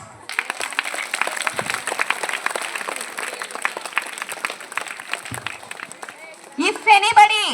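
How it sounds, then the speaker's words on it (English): Steady crowd applause for a children's karate performance, dense clapping sustained for several seconds, ending in a burst of louder voices and cheering near the end. "Claps."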